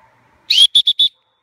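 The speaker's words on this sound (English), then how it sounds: "I'm gonna get my whistle in my mouth." A dog training whistle is blown during recall practice: one longer shrill blast followed by three short sharp toots in quick succession, loud and close, with no talking.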